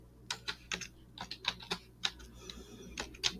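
Computer keyboard keys clack in quick, irregular bursts while a linear inequality word problem is entered, a close, faint run of a dozen or so taps with no talking.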